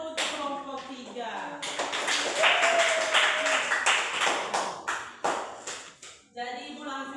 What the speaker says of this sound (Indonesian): tepuk tangan dulu untuk kelompok 3